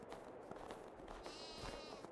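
Sheep bleat faintly in a livestock pen in Farming Simulator 22, with a wavering call rising over steady low background noise.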